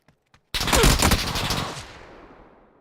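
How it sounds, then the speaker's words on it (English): Gunfire in PUBG lands as one loud, close burst of overlapping shots and impacts. A long rumbling tail follows it and fades over about two seconds, and two faint clicks come just before. "Someone's bombarding us"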